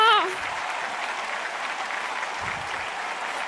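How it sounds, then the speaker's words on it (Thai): An audience at an Amway diamond-level honor pin ceremony applauds the father as he stands, a steady, dense wash of clapping that runs throughout after a brief voice at the very start. "ลุกขึ้นยืนรับเสียงปรบมือนะคะ"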